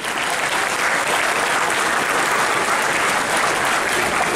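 An audience applauds a panel after a discussion on the Union Budget 2020 at Presidency University, a dense, steady wash of many hands clapping throughout with no voices over it.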